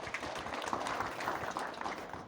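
An audience applauds the contractors at a ceremony for fuel storage tanks, a faint, steady patter of clapping from a crowd.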